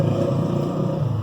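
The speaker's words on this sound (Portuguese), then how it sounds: "passou uma moto aí, vou repetir, né?" A motorcycle passes by, a steady engine drone and rumble heard close and continuous throughout.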